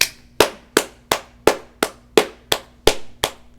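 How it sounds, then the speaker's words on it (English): Hand claps ring out alone, about ten sharp slaps at a steady, fairly quick rhythm, each loud and close with a short decaying tail. "Have not had a clap like this in a while."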